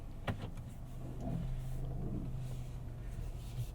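Interior of a 2021 Mazda CX-5 Grand Touring on a night drive, with a steady low engine and road rumble inside the cabin, moderate and even, and a brief click near the start.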